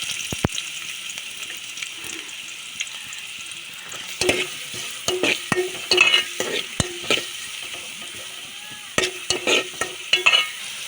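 Onions hit hot oil in a pan for a mutton and ridge gourd curry, with bursts of sizzling, spattering and spoon stirring that come and go, close and fairly loud, with no voices.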